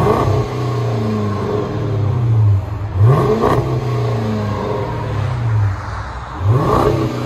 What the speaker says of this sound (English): That's a rear muffler delete. Let you guys hear.